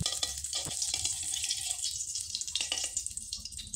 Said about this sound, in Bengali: এরপরে সুজি দিয়ে দিতে হবে আর সুজিগুলোকে হালকা করে একটু ভেজে নিতে হবে